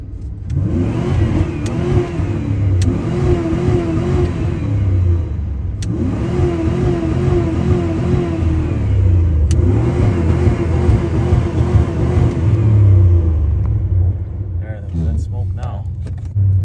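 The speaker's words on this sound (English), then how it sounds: "A little backfire action." 1997 Dodge Ram 1500 engine revving hard and repeatedly, loud and close, with sharp backfire pops cracking through between the revs.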